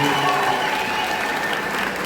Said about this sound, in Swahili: Apige makofi.